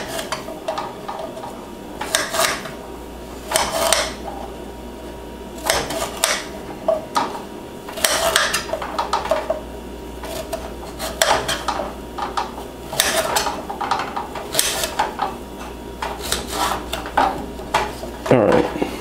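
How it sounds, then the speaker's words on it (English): A knife chops fruit into small pieces on a board, giving close, sharp taps in short bursts with pauses between them, alongside light clatter of kitchen utensils. "I'm just gonna chop everything into small pieces so that they fit onto one spoonful"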